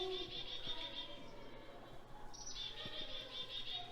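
A recorded chickadee call plays from a bird display at a nature center in Kansas, with high repeated whistled notes over faint room noise and a few small clicks.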